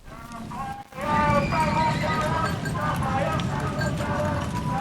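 Horses pulling delman carts during a coachmen's street protest outside a governor's office, with continuous clip-clop of hooves and repeated whinnies under a news voice-over.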